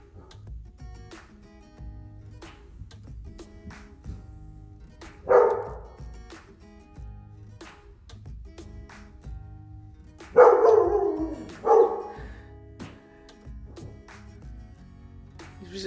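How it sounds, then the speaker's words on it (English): A dog indoors during a home renovation, giving three fairly close, sharp barks spaced several seconds apart over a quiet background. "He's resorted to barking at me"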